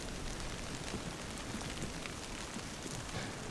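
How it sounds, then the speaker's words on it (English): Light drizzle falls on a tarp at a bushcraft camp, making a faint, steady, even hiss with scattered soft patters and no other sounds. "Yeah, very drizzly day today."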